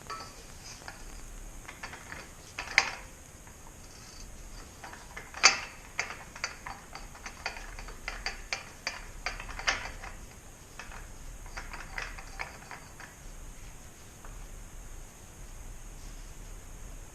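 A pipe notcher driven by a cordless drill cuts a notch into a metal pipe in a home workshop: a steady low mechanical whir with scattered ratcheting clicks and a few sharper knocks.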